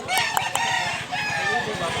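A White Kelso rooster crows in a sustained call lasting about two seconds, loud and close, with a steady pulsing undertone beneath it.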